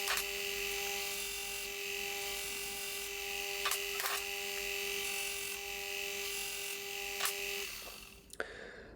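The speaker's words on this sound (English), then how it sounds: "put a chamfer on each end of the trundles" A high-pitched powered tool whines steadily while chamfering the ends of wooden organ drawstop trundles, a continuous tonal buzz with a few brief clicks, then it spins down at the end.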